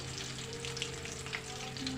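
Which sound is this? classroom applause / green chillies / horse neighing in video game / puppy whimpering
green chillies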